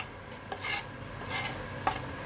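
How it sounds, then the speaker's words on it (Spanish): Chopped garlic is stirred by hand into simmering tomato for shakshuka, giving soft rubbing, scraping strokes and an occasional utensil tap against the pan, quiet and close with no talking. "Incorporo todo el ajo picado."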